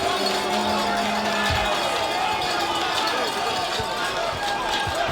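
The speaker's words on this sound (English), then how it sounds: "76ers crowd starting to get more involved into the action that we saw in that first game" Esports arena crowd at the NBA 2K League Finals, T-Wolves Gaming against 76ers GC, with a steady roar of cheering and chatter filling the hall, heard beneath continuous commentary.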